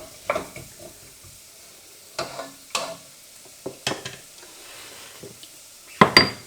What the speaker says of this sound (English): we'll give it a bit of a stir, make sure that it's not going to burn